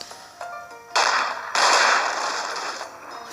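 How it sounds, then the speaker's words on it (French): Cannon shots in the video game One Piece Treasure Cruise, two sudden bursts about half a second apart, each followed by a loud, sustained noisy rumble that slowly fades. "Je voulais juste m'exercer un petit peu au canon."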